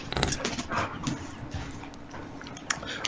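Dog whimpering softly in short, intermittent whines close by, mixed with faint rustling and shuffling.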